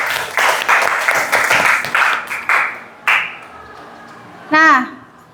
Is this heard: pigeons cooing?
no